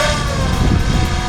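DJI Air 2S drone hovering about 10 meters away, a steady loud buzzing propeller drone with a high whine, continuous through a short stretch.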